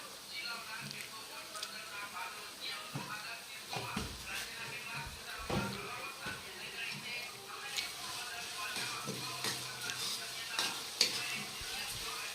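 Cabbage and onion sizzle in a pan with a steady crackling fry, broken by scraping stirs from a spatula; faint voices linger in the background.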